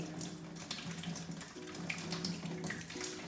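Tap water runs steadily from a faucet into a sink while makeup brushes are rinsed, a continuous close splashing rush with small shifts in flow and no voices.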